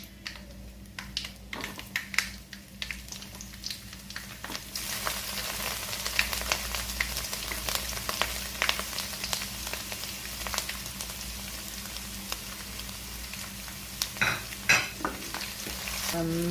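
Grated garlic and ginger go into hot oil with curry leaves for a dried mango pickle and are stirred, giving a crackling sizzle and repeated spoon clinks and scrapes against the pan. The frying grows louder partway through.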